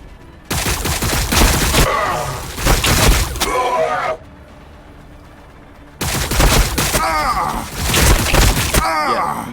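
Gunfire in the strategy game Warhammer 40K: Battlesector, dense loud bursts of shots and impacts in two long barrages separated by a quieter pause, with in-game voices calling out over the noise.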